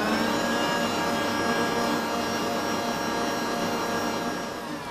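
An electric mixer whips a dessert mixture with added starch, a loud, steady whirring motor drone running unbroken and close, fading slightly at the end.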